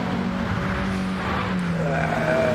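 Mini Cooper S race cars in a sim racing league event, engines droning steadily with shifting pitch as they run close together, heard under a commentator's continuous talk.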